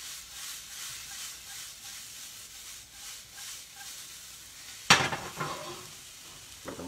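Crushed red pepper is stirred into beef in a hot pan with a low, steady sizzle, then a sharp, louder scrape and clatter of the spoon near the end, close and alone.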